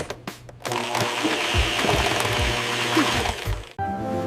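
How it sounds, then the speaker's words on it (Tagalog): A blender whirs steadily for smoothies, a dense buzzing motor drone after a few knocks and clicks, then stops abruptly, leaving a faint hum. "This is a blender."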